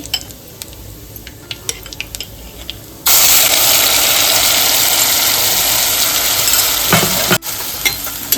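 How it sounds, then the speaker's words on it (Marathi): Onion with ginger-garlic paste dropped into hot ghee with cumin seeds, starting with light clinks and then bursting into a loud, continuous sizzle that eases off near the end. "यात कांदा आलं आणि लसूणची पेस्ट टाकून घेऊ"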